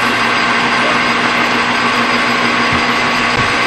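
A metal lathe takes cutting passes on a breather nut for a vintage Mustang, giving off a loud, steady whirring machine drone. The sound holds unbroken across the whole stretch, with faint grinding under the hum and no talk.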